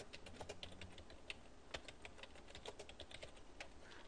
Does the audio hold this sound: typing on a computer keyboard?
yes